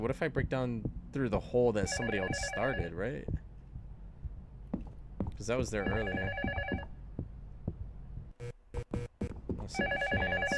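A telephone bell rings downstairs in a horror video game, repeating in several bursts while someone talks over it, then ringing clearly alone near the end.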